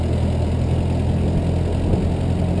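A 1922 Ford Model T engine runs loud and steady in low gear, a continuous rumbling drone with no pauses and no voices over it.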